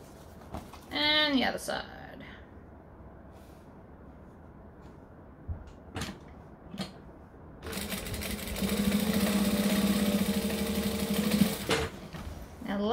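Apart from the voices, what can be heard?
sewing machine top stitching a tote bag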